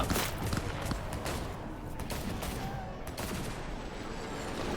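Sustained police gunfire in the video game Cyberpunk 2077: loud, dense volleys of rapid shots crackle without pause from start to finish, with overlapping bursts filling the whole stretch.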